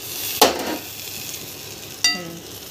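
Masala-stuffed capsicum frying in a pan gives a low, steady sizzle, broken by one sharp scrape and, later, a clear metallic clink of a utensil against the pan.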